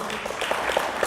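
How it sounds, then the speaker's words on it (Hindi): A church congregation claps loudly and steadily at a Hindi-language Christian service, a brief burst of dense, close applause. "यीशु मसीह के लिए ज़ोरदार तालियां बजाएंगे"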